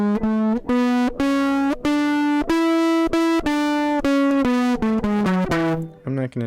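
Electric guitar with distortion plays an E mixolydian scale with its flat seventh, a run of clear, evenly spaced single notes stepping up and back down, loud and up close, with no voices.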